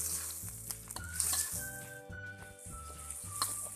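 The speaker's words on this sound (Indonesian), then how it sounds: "Kita tumis bersamaan sampai tomatnya benar-benar lembut." Sliced tomatoes sauté in a pan with a soft, steady sizzle, joined by repeated low scraping thuds of stirring throughout.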